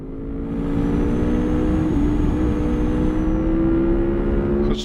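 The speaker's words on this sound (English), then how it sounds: "I like to hear the ambient sound of the cars, things coming up the side here" Steady engine drone of a truck in Euro Truck Simulator 2 with ambient car traffic rising and passing alongside, a continuous close rumble with a faint whine holding for the whole stretch.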